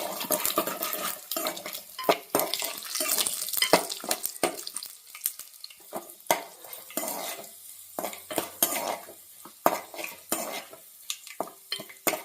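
Spoon scraping and stirring garlic and dried red chillies in a hot pan with faint sizzling, irregular metallic clinks and scrapes close up, no talking.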